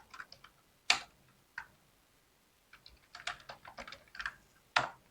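Someone types on a computer keyboard: a scattered run of crisp, close key clicks with short pauses, then a quicker burst of taps toward the end.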